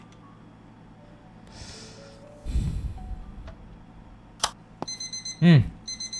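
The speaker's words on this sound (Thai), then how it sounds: "มีเสียงนาฬิกาปลุก" An alarm clock in a video game sounds a run of short, even electronic beeps near the end, following low rustling, a brief murmur and a sharp tick.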